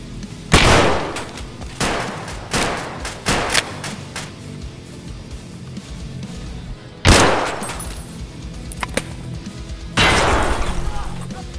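Gunfire from Escape from Tarkov with a dismemberment mod: loud, sharp shots in separate bursts and single cracks spaced a few seconds apart, with quieter game noise between them.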